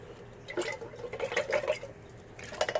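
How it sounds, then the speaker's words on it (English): Water is poured into a pot of canned tomato spaghetti sauce, giving a few quiet splashes and dribbles in short bursts near the microphone. "Let me add some water in there."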